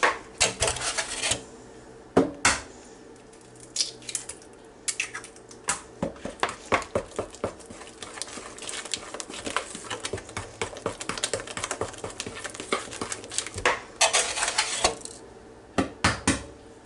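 Eggs being stirred one at a time into lemon orange bundt cake batter, a spoon tapping and scraping against a bowl in quick irregular clicks and knocks, close and continuous.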